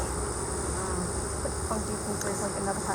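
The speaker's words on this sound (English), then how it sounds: "bees are pretty active" Honeybees buzz in a dense, steady drone around an open hive full of drones and fresh comb. The hum is close and continuous, with no pauses.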